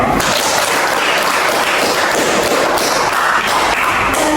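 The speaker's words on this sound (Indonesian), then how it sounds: "Tepuk tangan" A classroom of students claps together, loud, dense and continuous, with no pauses.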